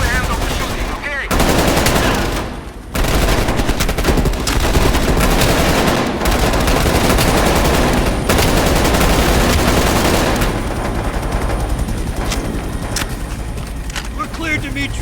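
Sustained automatic gunfire and bursts of shooting from a Call of Duty Black Ops Cold War helicopter-escape sequence, loud and nearly continuous with brief gaps, mixed with game voices shouting over the din.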